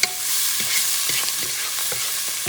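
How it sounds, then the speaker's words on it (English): Minced garlic fries in a pot for a beef short rib stew, giving a steady close sizzle broken by soft stirring scrapes. "Do this for a few seconds, you don't want the garlic to burn."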